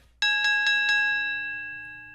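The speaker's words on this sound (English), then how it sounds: "Bell sounding off, and Kaiser and Gargano starting us off here" A wrestling ring bell rings to start a tag team tournament match: four quick metallic dings in a row, then a bright ringing tone that lingers and slowly fades, loud and close with no talk.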